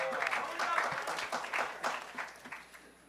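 A conference audience at a hacker event claps in a brief, uneven burst that rises and fades, with a voice talking over the clapping.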